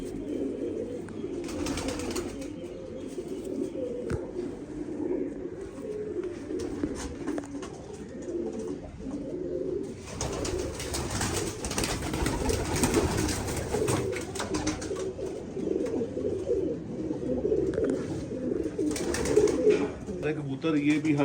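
Breeding pigeons coo steadily in a low, murmuring chorus close by, with a busier stretch of flapping and shuffling midway through.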